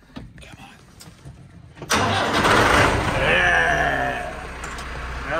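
A rarely used tractor carrying a snowblower attachment cranks and catches after a quiet pause, then roars into a loud, steady idle close by, with a voice briefly heard before it fires.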